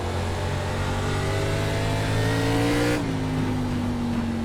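An ARCA race car engine in the iRacing game at Langley Speedway drones steadily at high revs, with a shift in pitch partway through, loud and constant.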